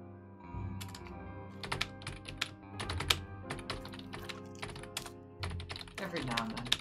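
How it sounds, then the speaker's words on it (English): Someone types steadily on a computer keyboard, close and clear. Clusters of clicks and clacks come in irregular bursts with brief pauses between them. "Sometimes you can hear the gentle click-clack of a keyboard."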